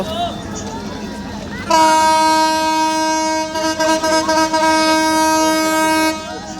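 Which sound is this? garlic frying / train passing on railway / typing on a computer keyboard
train passing on railway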